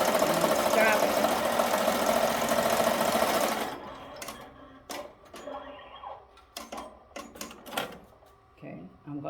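A sewing machine runs steadily for nearly four seconds while stitching an applique onto a shirt, then stops. Scattered clicks and handling noises of fabric and the machine follow.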